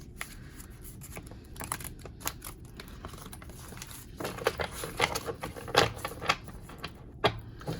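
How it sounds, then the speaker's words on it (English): Tarot cards being shuffled by hand in a quiet room, with soft papery riffles and flicks that grow busier and louder in the second half, followed by a few sharper snaps near the end. "let's just shuffle these"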